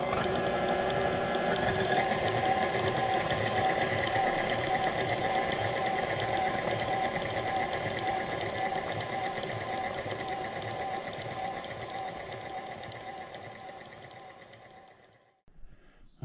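A stand mixer paddle churns thick cultured cream toward butter, a steady dense mechanical whir with rhythmic sloshing that holds for about fifteen seconds, then winds down and stops near the end.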